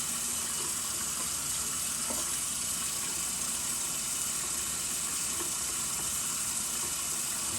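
Tap water runs steadily and close over a Harry's razor being rinsed mid-shave, a continuous broadband splashing hiss with no talking.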